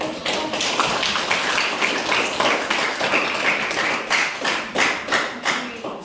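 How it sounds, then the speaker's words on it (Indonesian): A classroom group clapping steadily for several seconds, dense overlapping claps with a few louder individual hits near the end. "Oke, tepuk tangan."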